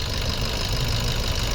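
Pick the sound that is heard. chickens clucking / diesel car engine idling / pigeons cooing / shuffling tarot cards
diesel car engine idling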